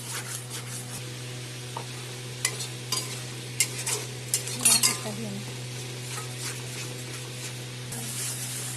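Fish curry sautéed and stirred in a pan: a low steady sizzle broken by a cluster of sharp spatula scrapes and clinks against the metal, close by, with a constant hum beneath.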